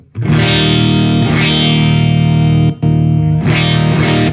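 A bright, distorted electric guitar chord rings out loud through an Alta100 amp on its Bright 1 setting, briefly cut off and then struck again near the end.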